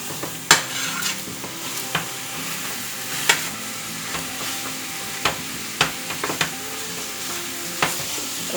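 Chopped sausage sizzles and browns in a pan with a little olive oil, a steady close frying hiss punctuated by repeated spoon scrapes and stirring knocks, with no talk.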